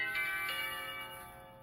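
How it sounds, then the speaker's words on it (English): A chime alert rings out faintly in a quiet room, a couple of soft bell-like strikes near the start whose tone lingers and slowly fades away. "Okay, there's my chime."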